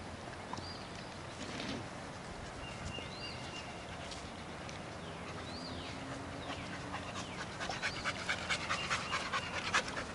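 Dog panting in a group of dogs, a quiet steady run of breathy huffs that grows into quicker, more rhythmic pants toward the end.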